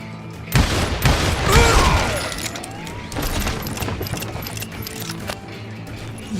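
Gunfire in Red Dead Redemption 2: a busy stretch of shots, booms and crackling impacts in a Wild West shootout, loud bursts early on followed by scattered reports over ambient noise.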